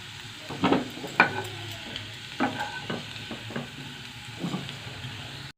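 Potatoes and carrots fry and get stirred in a pan while making an Odia cabbage curry, with scattered scraping stir strokes and soft sizzling spread over a few seconds, close by and moderately quiet.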